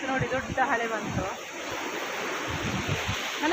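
A big sea wave breaks and rushes in at a beach, a loud, close surge of churning water with wind noise.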